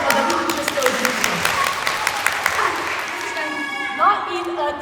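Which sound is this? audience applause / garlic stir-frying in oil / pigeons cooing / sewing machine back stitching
audience applause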